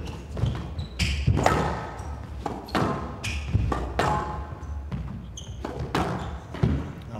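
A squash ball is struck back and forth during a professional rally on a glass court at the El Gouna International, giving a string of sharp thuds and bounces at an irregular pace over steady hall ambience.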